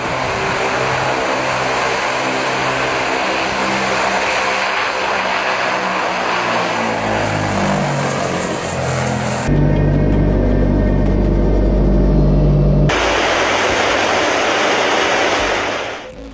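Loud droning roar of a Tu-95 Bear turboprop bomber's engines, close and sustained, the pitch sliding downward as the aircraft passes, with a deep buzzing stretch midway.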